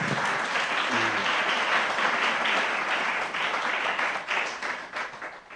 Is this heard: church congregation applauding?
yes